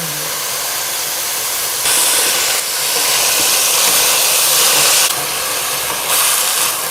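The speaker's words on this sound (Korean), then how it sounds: "물이 어느 정도 빠졌으면 이거 한번 볶아 볼게요" Vegetables stir-frying in a pan with a little olive oil: a loud, steady sizzling hiss that swells and eases in waves as the food is moved, with no talking.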